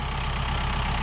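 Kubota M4-071 tractor engine running steadily while mowing hay with a Kubota discbine, a loud, even low diesel drone with a regular fast pulse throughout and no speech.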